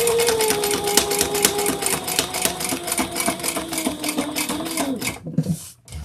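A sewing machine stitches leather, running steadily with a fast, even hum and clatter for about five seconds before stopping abruptly, leaving a few faint handling sounds.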